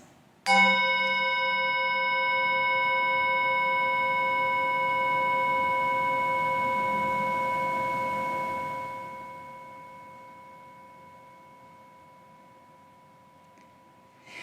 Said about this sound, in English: As we listen to the chime, let us remember our connection to each other and the world around us.